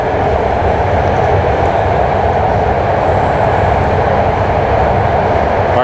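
BART subway train running loudly, a steady dense roar with rumbling low end that continues without a break for the whole stretch, close by and with no talk.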